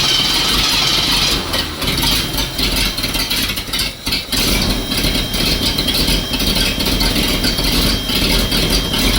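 A 1972 AMC Ambassador engine runs steadily up close, a loud continuous rumble with a brief dip in level midway, no voices.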